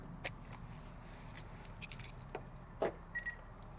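A Polestar wireless hands-free key fob is handled, giving a few faint, close clicks and small jangles spread over a quiet background, followed by a brief short electronic tone near the end.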